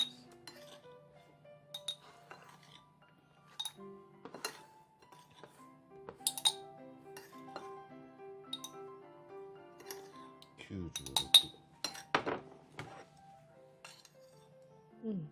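Scattered clinks and taps of a utensil against a glass jar as a garlic mixture is packed in, irregular and close, with a burst of scraping and knocking near the end.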